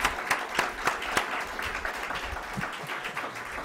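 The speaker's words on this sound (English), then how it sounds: "Give Judd Gregg a round of applause." Audience applause at a 2014 economic awards ceremony, a burst of clapping with several sharp claps early on that settles into a steady, moderately loud patter from the room.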